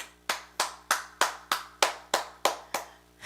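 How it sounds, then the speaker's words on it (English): Ten sharp hand claps in a steady, evenly spaced rhythm, close and fairly loud with no talking, on the set of a Caribbean music talk show. "clapping again."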